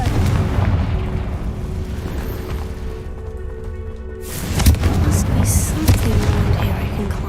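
A Confringo explosive spell going off in Hogwarts Legacy, a loud booming blast and rumble followed by a sharp burst of crackling impact, heard close over game ambience.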